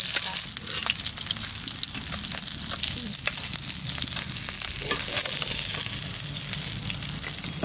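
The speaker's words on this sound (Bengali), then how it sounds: "মাছ ভেজেছে, ওই তেলের মধ্যেই লাউটা দিয়ে দিচ্ছি।" Green bottle gourd fries in a wok of oil left over from frying pond fish, producing a dense, loud, continuous sizzle with faint crackles from stirring throughout.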